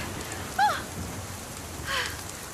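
Steady rain in the mountains hisses throughout, with a couple of brief high chirps rising above the downpour.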